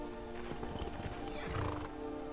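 A horse in the video game Skyrim whinnies and its hooves clip-clop, heard fairly faint amid game ambience, the neigh rising late in the moment.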